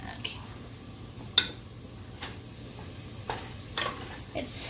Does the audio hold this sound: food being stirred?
yes